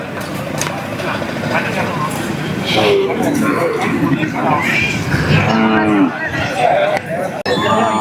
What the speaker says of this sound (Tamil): மயிலை கண்ணு மாடு கொண்டு வராங்க உள்ள.